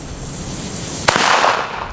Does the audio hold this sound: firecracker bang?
yes